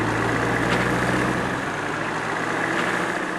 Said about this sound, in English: the throb of tractors kicking to life